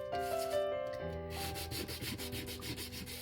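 An emery board rubs briskly across a card tag to scuff off black surface, giving a rapid, rhythmic scratchy sanding sound, close and fairly loud, with no talking.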